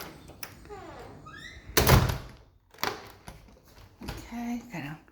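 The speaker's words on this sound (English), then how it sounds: "let me lock the doors back." Doors of a house at 219 and 221 Ransom St. in Chapel Hill, North Carolina are shut and locked, giving a loud thunk and clatter among rattling latch sounds, with a short burst of talking.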